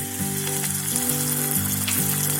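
Ginger-chili paste with cumin and curry leaves sizzling in hot oil for farali samosa filling, a loud, close, continuous hiss and crackle with a steady low background tone, no voices.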